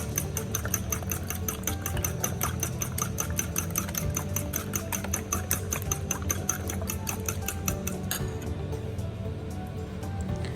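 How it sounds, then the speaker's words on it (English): A fork whisks egg yolk and white together in a bowl for a Thai-style omelette, making a fast, regular clicking against the bowl that runs for several seconds, then stops abruptly near the end. "I'm using a fork to mix yolk and white together"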